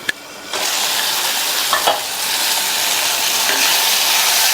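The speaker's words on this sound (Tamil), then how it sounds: "தக்காளி வதங்கி வரட்டும்." Tomatoes sautéing in a pan for a gooseberry (nellikkai) pachadi side dish, a steady close sizzle with brief stirring scrapes near the start, no talking.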